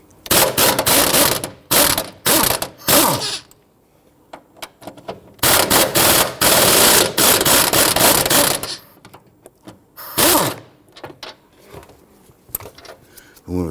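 A ratchet with a 17mm swivel socket loosens the transmission mount bracket bolts on a 2011-2015 Kia Sorento 2.4L four-cylinder. It gives loud, close, fast clicking bursts separated by short quiet gaps.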